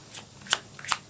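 Tarot cards shuffled in three quick riffling bursts, each a short crisp flutter of card stock, close and fairly quiet with no talk.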